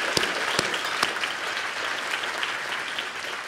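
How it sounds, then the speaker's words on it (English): A steady wash of audience applause from many hands at a volunteer service award show, with a few sharp claps standing out near the start. "let's give him another round of applause"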